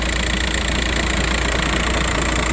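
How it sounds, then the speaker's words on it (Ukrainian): A 2006 Volkswagen T5 1.9 engine idles steadily and loudly, with a faint rhythmic knocking from the damper beneath the constant hum. "Якщо ви уважно послухаєте, підстукає трошки демпфер."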